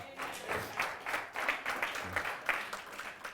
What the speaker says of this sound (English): Somebody clap your hands and say, I get you, Pastor.